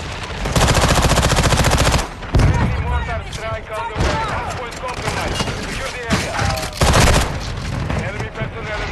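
Rapid shotgun and automatic gunfire from a Call of Duty Modern Warfare 2 multiplayer match, loud dense bursts at the start and again briefly near the end, with game sounds and voices mixed through the middle.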